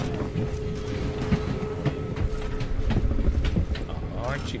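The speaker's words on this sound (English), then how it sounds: "Ah! Train." A train rolling past in a survival video game set around an interdimensional void train, a steady low rumble with faint rhythmic clatter running throughout, fairly close, with a brief voice reacting near the end.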